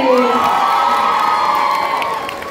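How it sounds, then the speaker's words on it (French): An audience at a cosplay contest during a fantasy and Japanese culture fair in France cheers loudly, with sustained shouts and whoops forming a continuous roar that fades slightly toward the end. "The Epic Musical, on l'applaudit encore s'il vous plaît."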